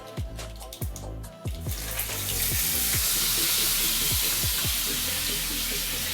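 Onion-tomato paste for egg curry hits hot oil already holding crackled mustard seeds and bay leaf. After a few clattering stirs, a loud, dense, steady sizzle takes over and continues.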